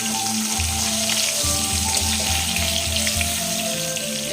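Katla fish frying in hot oil, a continuous close sizzle and crackle at steady loudness, with a low rhythmic hum running beneath it.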